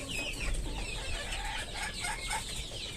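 Chickens on a small farm cluck continuously at close range, several birds overlapping in busy, uneven calls with no talking.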